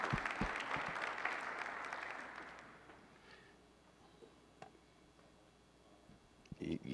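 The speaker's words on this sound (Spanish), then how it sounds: "Un aplauso para Bife de Chorizo." A short burst of audience applause for a first-place prize winner at a tech meetup, fairly close clapping that fades out after a few seconds into quiet room tone with a few scattered sounds.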